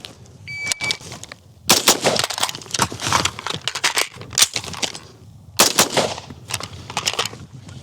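Rapid bursts of pistol shots fired at targets from about 40 metres at an outdoor range, sharp loud cracks in quick clusters separated by brief pauses, with no talk.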